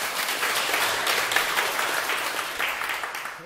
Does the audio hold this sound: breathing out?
no